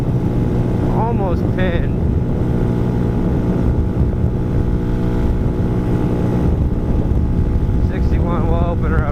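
A 2020 Hawk 250 motorcycle cruising at about 60 mph, with a steady loud engine drone and heavy wind rush throughout, and a voice talking briefly over it.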